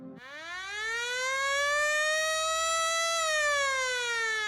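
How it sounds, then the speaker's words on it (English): A hockey period-ending siren wails alone, loud, rising quickly to a sustained tone and then sliding slightly lower as it fades out. "So there's the siren to not only end our period, but to end our podcast as well."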